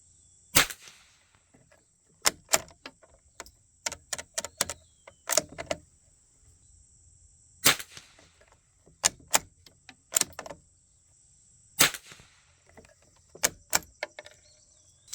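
Sharp .22 rifle shots from a Savage MKII or Norinco JW-15 firing CCI subsonic rounds at a target, a dozen or so cracks at irregular intervals, fairly close, with a steady high whine and no talking.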